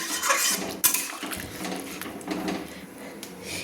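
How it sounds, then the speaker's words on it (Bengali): A spoon scraping and stirring cauliflower pieces through spiced milk in a pan over a medium flame, giving a continuous close rasp with a sharper metallic clack early on, then softer swishing. "ফুলকপিগুলোকে মশলা দুধের সঙ্গে কিন্তু আমি নেড়ে নিচ্ছি, এইভাবে নেড়ে নিচ্ছি।"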